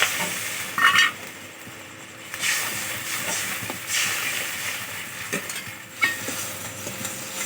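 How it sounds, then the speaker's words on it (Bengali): Water poured into hot oil and spices in a pan on a village-style stove while making chhanar dalna sets off a steady, broad sizzling hiss with occasional sharper spits and pops, close and fairly loud. "এবার এর মধ্যে জল দিয়ে নেবো।"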